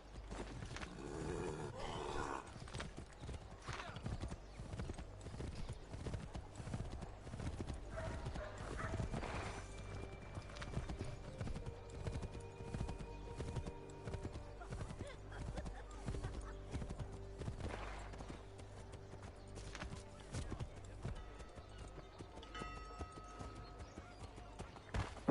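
Horse hooves clip-clop at a steady trot in the video game Assassin's Creed 3, with occasional whinnies, game music and ambience beneath, and a character speaking briefly.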